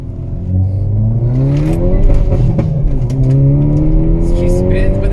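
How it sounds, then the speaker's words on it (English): A 2022 Hyundai Veloster N accelerating hard in first gear, engine note climbing steadily in pitch and loud from inside the cabin, with a brief tire chirp and people talking over it. "Let's do a little first gear pull."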